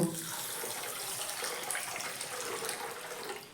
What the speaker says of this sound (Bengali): এবার জল দিয়ে ভালো করে আমি সাবুদানাটাকে ধুয়ে নেব